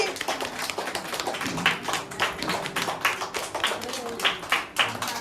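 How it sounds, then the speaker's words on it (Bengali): Steady rhythmic hand clapping from a group at an academy's opening ceremony, with a brief swell in intensity, under background chatter. "জোরে হাততালি।"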